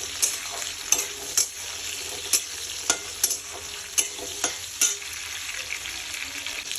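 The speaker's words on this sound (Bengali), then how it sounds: "আর এটাকে ভালো করে এখন আমি ফ্রাই করে নেব মশলাটাকে।" Spice masala and tomato sizzle steadily in a pan for crab curry, broken by repeated sharp spatula scrapes and clicks at an uneven stirring rhythm.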